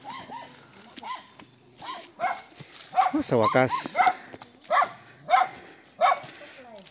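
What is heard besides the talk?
dogs barking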